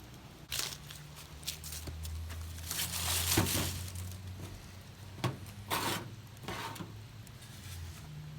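A Mora knife's spine scraping along a piece of bamboo, giving rough, rasping strokes in irregular bursts, close and moderately quiet, with no talk.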